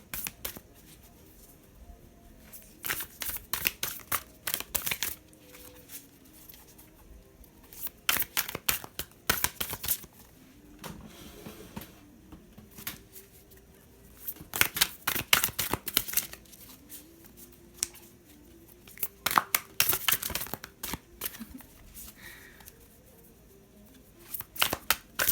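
Tarot cards being shuffled live during a pick-a-card reading, with bursts of riffling and soft slapping that come in irregular clusters, close and fairly quiet, separated by brief lulls.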